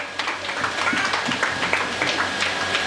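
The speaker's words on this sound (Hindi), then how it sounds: "चलो ताली बजा दो भाई आराधना के लिए" An audience claps for Aradhana at a school celebration of Dr. B. R. Ambedkar's birth anniversary, giving moderate, uneven applause of many hands that carries on steadily throughout.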